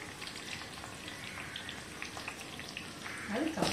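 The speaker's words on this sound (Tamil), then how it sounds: "இந்த வெங்காயத்தை போடணும்" Onions frying in hot oil for a homemade hair oil give a faint, steady crackling patter, with a brief voice near the end.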